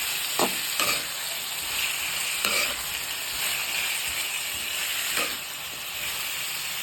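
Onion, tomato and green chilli fry over medium flame in a pan for masala dosa filling: an even, close sizzle with a few sharp stirring knocks scattered through it.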